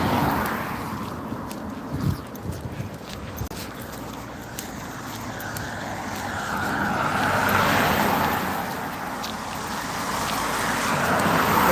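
A car passes along a quiet residential road in Barrhead, its engine and tyre rush swelling and fading at moderate distance over steady outdoor background noise.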